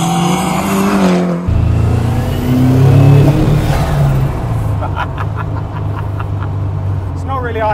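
A Cosworth-engined Triumph TR6 revs loudly and close by, its engine note swelling and dropping in rough waves over damp roads while people talk over it.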